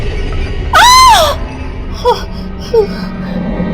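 A woman screams in fright in a horror story effect, one loud, rising and falling shriek under a second long, followed by a couple of brief, fainter cries.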